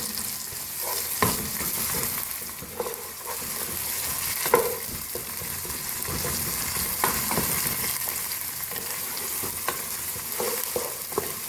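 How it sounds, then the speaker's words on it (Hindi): Onions with two teaspoons of garlic-ginger paste frying in a pan, a dense steady sizzle with repeated spatula scrapes and occasional knocks against the pan, close and without speech. "2 टीस्पून लहसुन अदरक का पेस्ट है। इसको फ्राई करेंगे साथ।"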